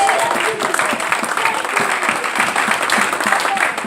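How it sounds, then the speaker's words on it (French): Church congregation clapping together, a dense, continuous round of applause that stays steady and close for the whole stretch. "acclamez la parole de Dieu"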